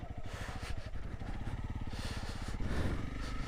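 A Honda CRF250L dual-sport motorcycle with a single-cylinder engine putters at low revs through a muddy puddle, its engine pulsing steadily and close by, with a louder surge near the end.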